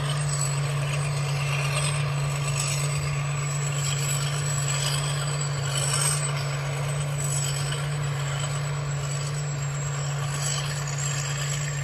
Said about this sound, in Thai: เป็นเครื่องอีสูนะครับรถคันนี้เครื่องอีสู ร้อยเก้าห้าเทอร์โบครับ